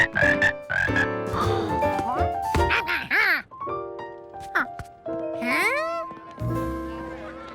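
Cartoon voices imitate frog calls, giving a string of varied croaks, ribbits and swooping squeaks with short gaps between them, close and lively.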